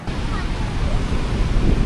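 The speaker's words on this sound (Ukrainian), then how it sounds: "Ну і як завжди хвиля досить чималенька на морі" Sea waves surge and wash continuously along a windy seafront promenade in Vietnam, loud and close, with steady wind buffeting the microphone throughout.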